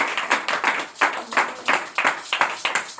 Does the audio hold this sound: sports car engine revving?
no